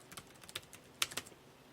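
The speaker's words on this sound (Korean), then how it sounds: "나머지 여기 밑에 데이터표에 있는 내용을 그대로 타이핑을 입력해 주시면 됩니다" Typing on a computer keyboard while entering table data into a PowerPoint exercise: a quiet, irregular patter of light key clicks with a few sharper taps near the end, with no speech.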